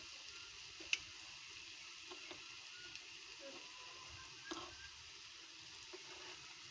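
Mysore bonda batter frying in hot oil gives a faint, steady sizzling hiss, broken by a few soft crackles and pops, one slightly sharper near the start.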